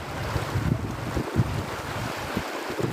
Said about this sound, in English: It appears to be a little stream.